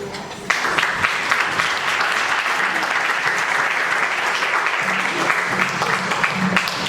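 An audience at a teaching conference session breaks into sustained, loud applause to welcome the speaker, dense clapping that starts abruptly and holds steadily for several seconds.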